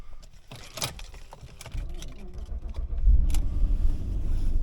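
A BMW 740iL starts on the first try: faint clicks and a brief cranking, then the engine catches at about three seconds and settles into a steady low idle nearby.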